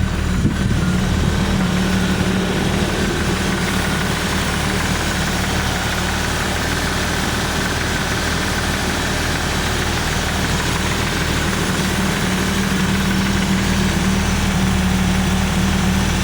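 A Jeep Wrangler YJ with a carbureted 4.0 inline-six swap and a slight exhaust leak settles into a steady, loud, low idle right after starting, running evenly without speech.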